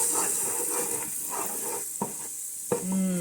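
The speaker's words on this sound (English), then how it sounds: "We are going to stir the onions just for about 2 minutes" Onions cooking in Miyoko's butter in a pan give a steady soft sizzle, broken by a few scraping stirs of a utensil, with a faint clink near the end.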